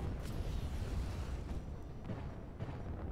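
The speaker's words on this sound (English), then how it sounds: "Loads of explosions going off here." Dense rumbling explosions and booms roll continuously through a chaotic mecha battle on a hillside with advancing tanks, loud low-end blasts layered with scattered sharper bursts, no talking.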